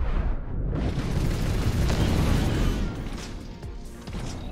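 Time bomb explosions in the Overload video game, one long heavy rumbling blast that swells, holds loud for a couple of seconds, then tails off into a quieter crackling decay.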